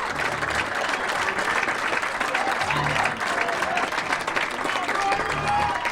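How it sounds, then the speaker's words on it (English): Baseball crowd at a CIF Division 2 high school final applauds the starting pitcher as he leaves the game, a steady, sustained round of clapping from the stands with a commentator's voice faintly underneath. "as a crowd giving a nice round of applause to starting pitcher Brian Pakovic"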